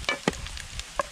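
Shrimp frying in a pan outdoors on a riverbank, with short sizzling bursts and stirring clatters, a couple of sharp spikes, heard close over low background noise.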